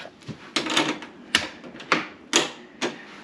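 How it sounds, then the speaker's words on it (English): A door lock is worked at a home bedroom door: a series of sharp metallic clacks and rattles, about five close, loud bursts in quick irregular succession. "This is how my mom locks me in."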